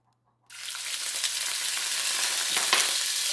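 Garlic hits hot oil in a pan and breaks into a loud, steady sizzle that holds evenly to the end, with no talking.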